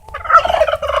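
A turkey kept in a farmyard pen with chickens lets out one loud, close gobble, a quick warbling rattle lasting about a second, with no other sounds.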